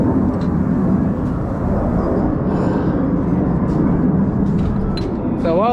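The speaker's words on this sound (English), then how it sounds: "Excuse the aeroplane noise in the background." An aeroplane passes overhead outdoors, its broad, steady drone loud and unbroken throughout, with a brief chirp near the end.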